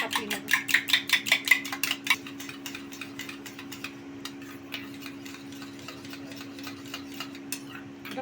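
Sour yogurt (curd) being beaten in a bowl for chana masala, with quick rhythmic clicks of a spoon against the bowl, loud and fast at first and then softer and sparser, over a low steady hum.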